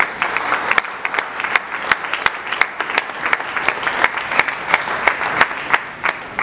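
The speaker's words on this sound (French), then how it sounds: "Sous vos acclamations." Steady, loud audience applause at a book launch event, dense clapping from a crowd continuing without pause, close and unbroken with no talk over it.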